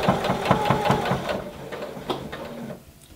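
Domestic sewing machine stitching a lingerie seam toward the centre, a steady mechanical whirr with rapid rhythmic needle pulses for most of the clip, close and fairly loud, stopping just before the end.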